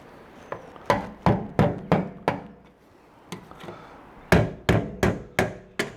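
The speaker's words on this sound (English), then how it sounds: "You just give it, you just tap it, and then try and do it even on each one of these tabs." Sharp metallic taps on the tabs of a Chevy fuel pump lock ring to loosen it, about a dozen close, evenly spaced knocks in two bursts separated by a short pause, with no talk.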